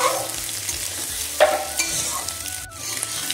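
Egg bharta, mashed egg, stir-fried in a pan, giving a steady close sizzle with scraping stirs and one louder clatter partway through, no voices.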